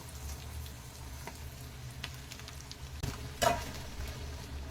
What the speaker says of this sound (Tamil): சேர்த்துட்டு நல்லா வதக்கி விட்டுருங்க